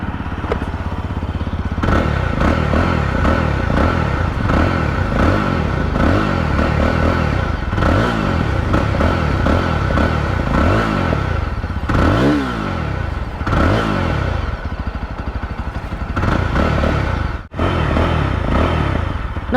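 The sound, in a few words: motorcycle engine exhaust note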